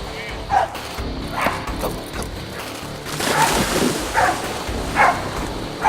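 A dog barks in short bursts several times over a noisy, windy outdoor background, with some faint voices mixed in.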